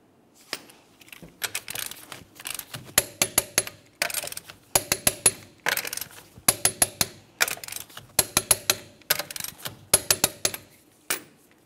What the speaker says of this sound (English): continue torquing them in a crisscross manner